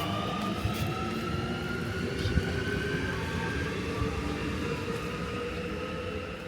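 A Paris RER commuter train rides with a steady, loud rumble and rolling rail noise heard from inside the carriage, with faint higher squeals and no talking.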